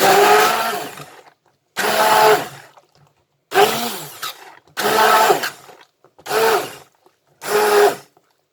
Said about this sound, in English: I'm going to use my hand blender. It's quicker.